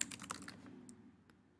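Rapid keystrokes on a computer keyboard, a quick run of close clicks that trails off into a few isolated taps, with no voices.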